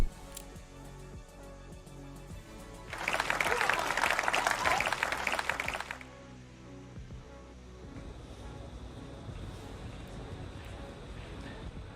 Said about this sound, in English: There was a big cheer for Rhiannon Evans as she came out